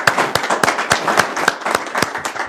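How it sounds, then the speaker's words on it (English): Scattered clapping for a funders panel at a live-streamed event, with distinct individual claps from a fairly small group in a loose, uneven rhythm, close and clear. "Can we get a round of applause for this fantastic panel?"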